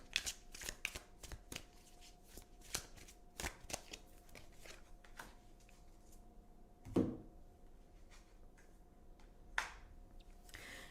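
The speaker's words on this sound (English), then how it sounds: "let's choose a card for an affirmation for the day." Tarot cards are shuffled by hand in quiet, close, crisp riffles and taps that come in uneven bursts, with a couple of louder knocks partway through and no voices.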